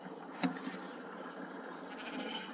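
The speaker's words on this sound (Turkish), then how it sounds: "Orada koyun mu var?" A single short Minecraft sheep bleat rings out near the start, followed by quiet, low ambient game sounds.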